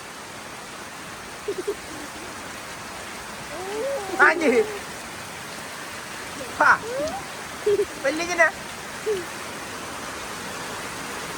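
Rain falls steadily in a village, a soft even patter running throughout, while a few short voice replies come through near the middle.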